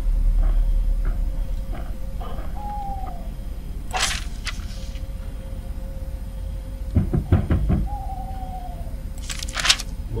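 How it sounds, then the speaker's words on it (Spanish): Two separate bursts of sharp knocking, one near 4 seconds and a denser cluster near 7 seconds, on a door in an indie horror video game, heard over a low hum and faint wavering tones. "Acaban de tocarme una puerta."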